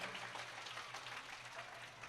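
Applause for an honoured guest at a live Devi Bhagavat Katha religious gathering, a steady wash of clapping from a crowd held at an even level throughout.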